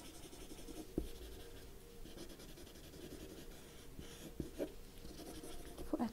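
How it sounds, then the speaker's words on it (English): Graphite pencil on paper is worked over with a smudging tool, a soft continuous rubbing and scratching close up with faint taps and brief scrapes, quiet and steady throughout. "So this is the smudging technique, and I've used this smudging tool."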